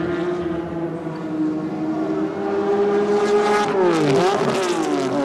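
A Group C touring car engine drones steadily during a 1981 Adelaide race, then revs climb and break off abruptly as a gear change misses, pitch dropping and surging again.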